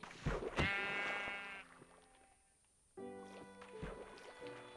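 Sheep in Minecraft Earth bleat in two separate bursts, each a harmonic, nasal cry standing clear of soft game ambience, with a short quiet gap between them.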